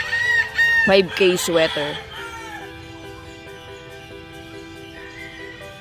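Young pullets on a poultry farm cluck and crow in a busy, overlapping flock chorus that is loudest at the start, with a brief voice speaking, then settle into quieter steady clucking.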